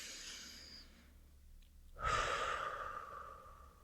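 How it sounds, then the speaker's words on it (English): One person takes a slow deep breath, a soft airy exhale fading out, a brief pause, then a stronger breathy rush that tapers off, close and quiet, with no words spoken. "take a breath with me"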